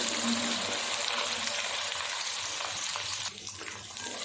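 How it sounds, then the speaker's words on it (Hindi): Inch-long okra pieces fry in hot ghee over medium heat, making a loud, continuous close-up sizzle that eases slightly toward the end, with faint stirring and no talk. "मीडियम आंच पे हमने इसको फ्राई कर लेना है"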